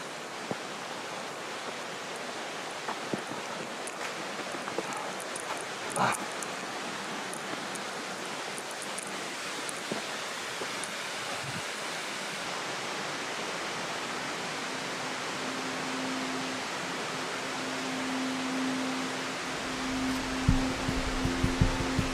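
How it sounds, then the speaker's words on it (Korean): Bongnae Falls, a three-tiered waterfall on snowy Ulleungdo, roars with a steady, broad rush of falling water that holds evenly throughout. "이곳이 바로 울릉도의 젖줄인 복례폭포다."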